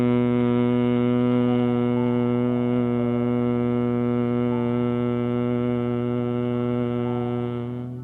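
A steady, low humming breath with closed lips during Bhramari pranayama, one continuous buzzing tone held for about eight seconds and fading slightly at the end, close and alone with no talking.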